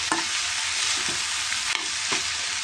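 Onions fry in a pan with a constant, fairly loud sizzle, broken by a few soft scraping stirs.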